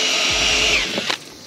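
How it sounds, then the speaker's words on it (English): A power drill bores a hole in a square water tank, loud whirring and buzzing with a rapid pulsing motor rhythm close up, then spinning down and stopping. "I drill the next size down a little bit bigger"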